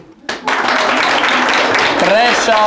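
An audience at a school quiz final claps and applauds for the third-place team, a loud, sustained burst of clapping that begins abruptly and continues with voices mixed in.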